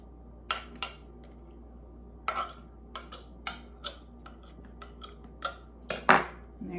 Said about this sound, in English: I just take a butter knife and I go around and I cut off the excess.